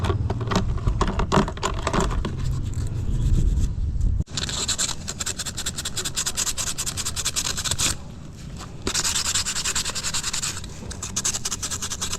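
A spark plug from a 1989 Toyota idle for a year is scrubbed clean, giving rapid, repeated close scratching strokes in bursts with short pauses.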